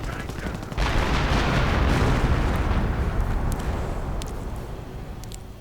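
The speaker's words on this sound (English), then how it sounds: "artillery getting called in on the MG, and oh dear, officer artillery by the looks of it" Artillery barrage from a British officer artillery call-in in the Company of Heroes video game, a heavy sustained rumble of explosions filling the scene after a sudden onset, with a few sharp crackling reports near the end.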